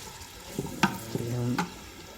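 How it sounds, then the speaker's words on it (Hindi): Onions frying in a pan on a stove in a rustic home kitchen: a faint, steady sizzle with a few soft stirring knocks, fairly quiet and partly covered by a brief tonal sound in the middle. "अभी हम प्याज को भून लेते हैं।"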